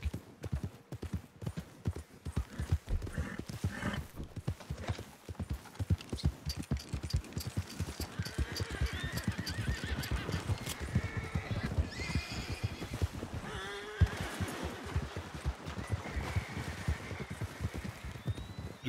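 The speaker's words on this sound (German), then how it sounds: "Schickes Pferd." Horse hooves clip-clop in a steady rhythm through Red Dead Redemption 2 online, with whinnies and neighs over a continuous game ambience.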